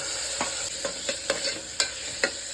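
Chopped tomato and onions fry in a pan under a steady bright sizzle, with a spatula scraping through them in regular strokes about every half second, close and clear with no talk.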